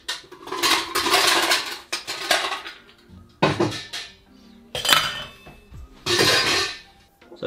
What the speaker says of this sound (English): get your tin shaker and put some ice